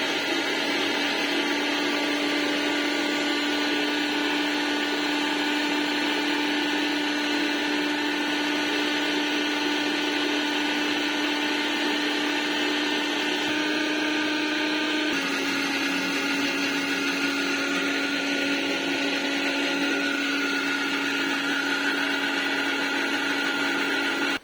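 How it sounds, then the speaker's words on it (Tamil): Mixer grinder grinding masala paste at home, a loud, steady electric whir running continuously with a slight shift in pitch partway through. "இது வதங்கட்டும், பேஸ்ட் அரைச்சிட்டு வந்துடலாம்"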